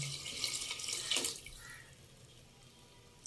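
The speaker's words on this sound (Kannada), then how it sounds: "ಇವಾಗ ನೀರು ಹಾಕೊಳ್ಳೋಣ." A short rush of water pours and splashes into a cooking pot of fried rice and lentils, then fades to a quiet hiss with a small drip at the end.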